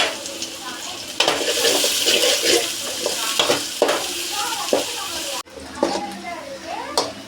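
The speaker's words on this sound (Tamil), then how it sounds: "எண்ணெய் காஞ்ச உடனே நம்ம வெங்காயத்தை போட்டுடலாம்." Onions sizzling and frying in hot oil in a pan, a steady loud hiss with stirring scrapes throughout, close up and briefly cut off near the end.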